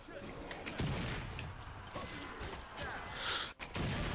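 Rapid bursts of gunfire crackle in the zombie shooter video game Zombie Army 4, dense and continuous over a few seconds, with a player's gasps and muffled talk mixed in.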